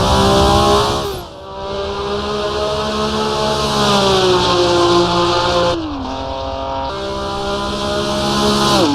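A vintage race car in Assetto Corsa roars loudly down a straight, its engine holding a steady harmonic drone that dips briefly on two gear changes, then climbs again, with no talk over it.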